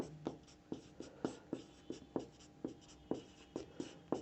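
Pen strokes on paper during a Hindi coordinate geometry lesson, a steady series of short sharp scratches and taps about every half second, close and clear with no talking.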